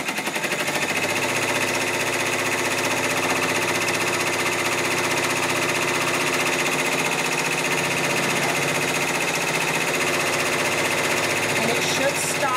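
Embroidery machine stitching fabric for a Kimberbell table topper, a fast steady mechanical whirr and buzz that runs continuously and fairly loud, with no voices.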